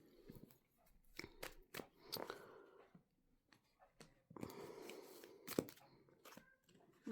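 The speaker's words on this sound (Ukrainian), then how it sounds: "давайте ми їх перетасуємо" Quiet, close crisp riffling and snapping of cards being shuffled in several bursts, with soft handling noises between.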